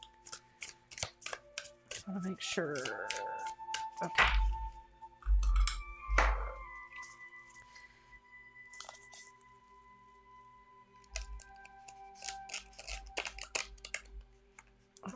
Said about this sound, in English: Make sure that I shuffle these real good before I get going.